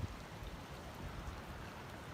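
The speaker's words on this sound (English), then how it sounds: "absolutely tipping down rain" Heavy rain falls steadily in Snowdonia, Wales, a dense, even hiss of downpour that stays constant and fairly close throughout, with no voices.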